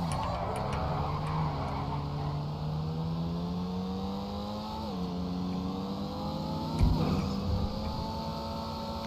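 Tuned Porsche Cayman in GTA 5 revving hard, engine pitch climbing through several gear shifts in a steady, loud run, with a brief screech or bump near the end.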